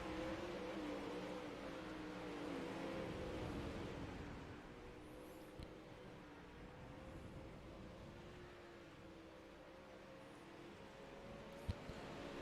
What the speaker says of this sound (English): 6 cars still running on the racetrack here